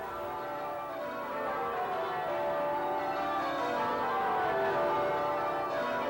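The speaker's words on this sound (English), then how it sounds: "the bells that you hear on your way to church Sunday mornings" Church bells ring continuously, their overlapping tones blending into a rich, sustained peal that swells slightly louder toward the end.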